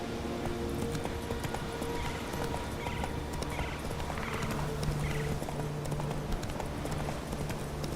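Roach, Geralt's horse in The Witcher, clip-clops steadily on hooves through a busy game scene, with a continuous mix of ambient sound and a low droning hum underneath.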